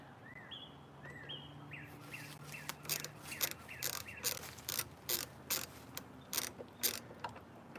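A ratchet clicks in short, quick bursts while tightening a nut on a Nissan Cube side mirror being repaired after deer damage. The clicks are fairly close over a quiet outdoor background, with birds chirping faintly early on.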